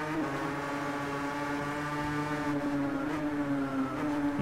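A two-stroke 500cc racing motorcycle engine roars steadily in a motorcycle racing video game, its loud buzzing drone holding pitch with slight shifts in revs and no talking.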